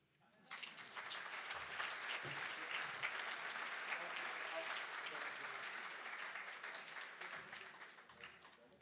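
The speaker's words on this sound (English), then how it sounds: "Big round of applause again for Narelle Hand, Northern Beaches Women's Shelter CEO." A room of guests at a women's shelter charity gala auction bursts into applause that starts abruptly and stays loud and dense for several seconds, then slowly thins near the end, with faint voices mixed underneath.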